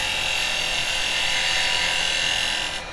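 Carbide woodturning tool cutting a pine blank on a lathe, a steady continuous hiss and whir of the cut holding for nearly three seconds before easing off at the end.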